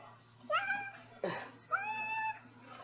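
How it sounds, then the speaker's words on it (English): A naked cat gives a few plaintive, sad-sounding meows close by, with short pauses between calls and a brief rustle in between. "He's got the saddest little meow."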